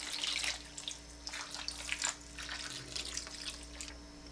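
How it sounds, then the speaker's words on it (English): Water runs from a tap and splashes into a roasting pan holding a chicken, a soft, steady trickle with a few brighter splashes, heard alone at low volume. "so then you're gonna put some water in there"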